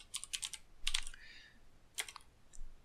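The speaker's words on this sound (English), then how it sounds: "So let's type switch number" Short bursts of keystrokes on a computer keyboard, entering a line of script code: clustered taps, a pause, then a few more presses, close and fairly quiet, with no voice.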